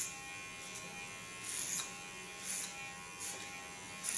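Electric hair clipper with about a 4 mm attachment buzzing during a haircut, a steady electric hum that swells into four short louder bursts as it passes through hair.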